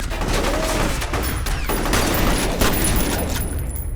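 Gunfire from the first-person shooter F.E.A.R., a dense, loud fusillade of shots and booming impacts packed tightly together with no pause across the few seconds.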